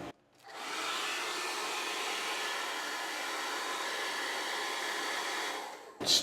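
A heat gun blows a steady, close whirring hum of hot air onto a guitar's finish, switched on for about five seconds and then cut off, with no talking.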